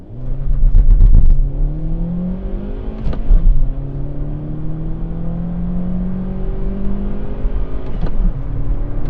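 A 2020 Kia Rio 1.2-litre 84 hp four-cylinder engine with a five-speed manual revs up through the gears, rising in pitch with brief shifts between pulls, steady and fairly loud throughout.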